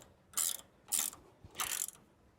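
Ratchet tightening a tow hitch clamp on a Tesla Cybertruck front bumper: three close, crisp bursts of rapid clicking separated by short pauses, with no talk.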